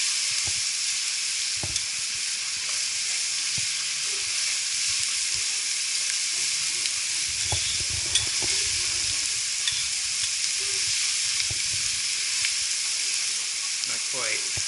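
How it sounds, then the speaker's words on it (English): Onions sautéing in a pan for a braised short rib ragu, a continuous bright sizzle with occasional soft scrapes and knocks of stirring, close and steady throughout, no talk. "just keep doing this till the onions turn translucent"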